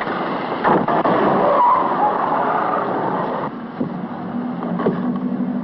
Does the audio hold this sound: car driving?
yes